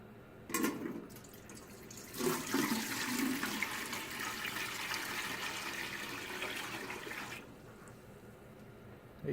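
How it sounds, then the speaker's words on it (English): Eight cups of water pour into a pot of shrimp heads and peelings from four pounds of shrimp, a steady rushing splash lasting several seconds, then stopping, with no talking. "So we're going to go ahead and add the water to the pot."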